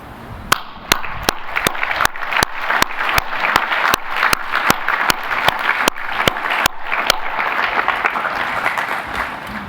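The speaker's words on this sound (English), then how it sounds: "Let's have a final round of applause for all our Alumni Achievement Award recipients." Audience applause for alumni achievement award recipients at a school awards presentation: dense, steady clapping from a large crowd fills the whole stretch, with a few sharp individual claps standing out near the front.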